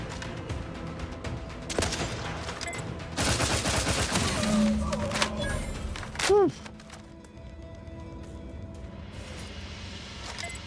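Bursts of gunfire from an auto-targeting weapon in The Outer Worlds 2, a few rapid volleys spread over the stretch, with mechanical game effects and a brief whooshing tone in between.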